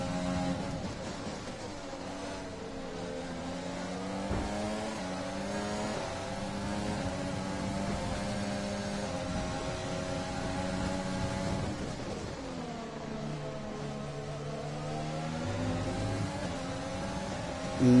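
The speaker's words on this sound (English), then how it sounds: "No chance of keeping up with that Mercedes engine." Mercedes Formula 1 engine in the F1 2020 game at the Bahrain Grand Prix, a sustained high-pitched whine that rises and falls steadily through gear changes, heard alone and fairly loud throughout.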